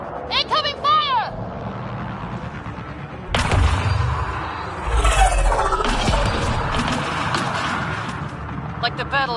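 Incoming gunfire in Mass Effect Andromeda, heavy booming blasts and rumbling fire beneath shouted dialogue, with a sudden loud impact midway followed by sustained roaring battle noise and sweeping electronic whines.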